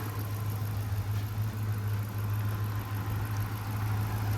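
At a public car auction, a car engine idles steadily up close under the hood, with a deep, even rumble and a faint mechanical ticking throughout.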